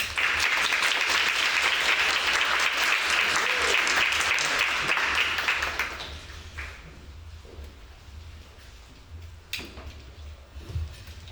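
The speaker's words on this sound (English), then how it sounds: "So please give her a round of applause." An audience at a mental health festival applauds loudly and steadily for about six seconds, then the clapping fades to scattered claps and room noise.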